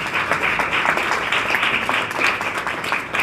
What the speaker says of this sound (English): You guys should be clapping about